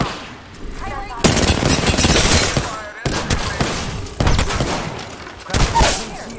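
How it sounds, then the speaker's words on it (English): Loud automatic gunfire in a battle royale shooter: rapid close bursts of shots in several separate volleys with short pauses between, with a voice speaking briefly among them. "Taking fire."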